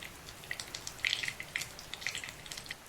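A small test bit of batter drops into not-yet-fully-hot oil, giving faint, sparse crackles and tiny pops scattered over a few seconds, with no talk.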